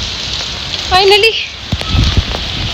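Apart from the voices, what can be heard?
very heavy rain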